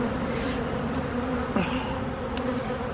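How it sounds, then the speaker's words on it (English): Honey bees swarm and fly around a hive on a rainy day, producing a close, continuous droning buzz with individual bees whizzing past. "A lot of bees flying around and clumping up."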